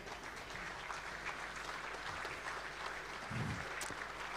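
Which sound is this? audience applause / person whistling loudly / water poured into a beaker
audience applause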